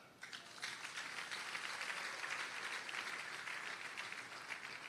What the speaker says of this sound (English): I thought you can clap for that.